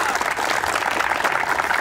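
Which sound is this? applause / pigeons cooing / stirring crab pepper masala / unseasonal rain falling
applause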